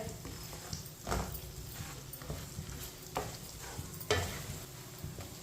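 Green chillies fry in a pan for a rice dish, giving a quiet, steady sizzle broken by occasional soft knocks and stirring scrapes of a spoon.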